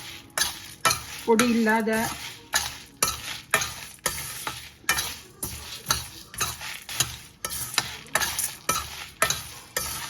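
Lentils being dry roasted in a pan for rasam powder, stirred with a rhythmic, repeated scraping and rattling of grains against the metal, strokes coming about every half second, with a brief spoken word early on.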